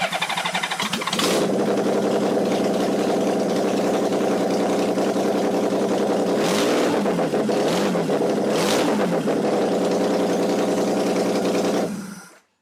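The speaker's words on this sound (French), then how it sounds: "On essaie maintenant un petit démarrage. Attention aux oreilles parce qu'il n'y a toujours pas d'échappement." A Honda Goldwing 1800 GL motorcycle engine with no exhaust fitted cranks, catches and runs loudly up close, a harsh raw roar with a couple of sharp revs before it shuts off.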